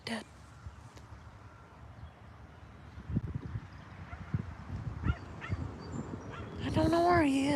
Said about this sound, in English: And that dog. Woof,